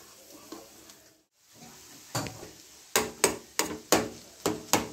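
Mashed potato goes into a hot pan for a potato curry sandwich filling and gets stirred, bringing a soft sizzle and then a run of sharp, evenly spaced knocks of a utensil against the pan, growing louder toward the end.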